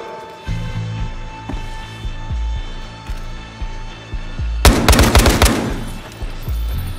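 Rapid bursts of gunfire in the video game Battlefield Hardline, loud and punchy, with repeated single shots and one dense automatic volley near the middle.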